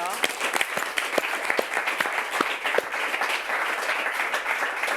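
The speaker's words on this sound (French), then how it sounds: "Ces applaudissements, c'est pour toi" A studio audience gives a sustained ovation: dense, steady clapping runs throughout with sharp individual claps standing out, and a voice murmurs faintly beneath.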